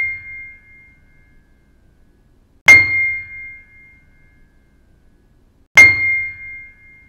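A single piano note, picked up by a microphone, is struck three times at regular intervals. Each strike is a clear, bright tone with a sharp attack that rings and fades into silence before the next, with no voices.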